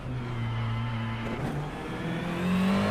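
A number 80 McLaren race car's engine heard onboard during an endurance race at Spa, droning steadily and loudly with a clear pitch rise toward the end as it accelerates, no talking.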